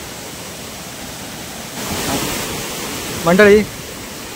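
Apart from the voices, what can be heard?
waterfall in Chandranagar village, Dapoli, Konkan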